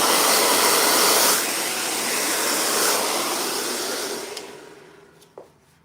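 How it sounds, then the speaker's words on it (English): Hair dryer blowing steadily on naturally dried, colored hair without its comb attachment, a loud broadband rush that eases slightly partway through and fades near the end with a brief handling knock. "See how much faster it's blow drying the hair?"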